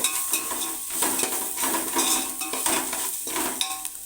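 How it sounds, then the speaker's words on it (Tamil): Ginger and garlic paste being sautéed in a pan for biryani, with a steady close sizzle and scraping stir strokes throughout, no talk. "அதை வந்து இஞ்சி பூண்டு வாசனை போகிற அளவுக்கு கொஞ்சம் நல்லா வதக்கிட்டோம்னா இன்னும் கொஞ்சம் டேஸ்ட்டு நல்லாயிருக்கும்"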